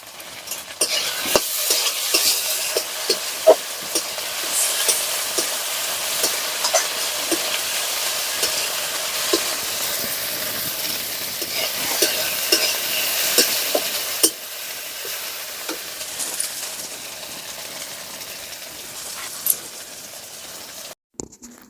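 Tomatoes sizzle and fry steadily in a spiced chicken curry masala for a homestyle country-chicken curry, with stirring scrapes and utensil clatter throughout at close range and no talk.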